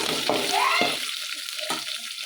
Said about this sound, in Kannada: ಈಗ ಮೆಣಸಿನ್ಕಾಯಿ ಹಾಕ್ತಾಯಿದ್ದೀನಿ. ಈಗ ಚೆನ್ನಾಗಿ ಫ್ರೈ ಮಾಡ್ಕೊಳ್ಳೋಣ.